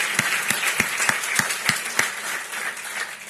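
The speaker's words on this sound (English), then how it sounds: "If you'll all please give them a round of applause." Luncheon guests at the Carpinteria Chamber of Commerce State of the Community event give the chamber volunteers a round of applause, with a few sharp individual claps standing out over steady, moderate clapping.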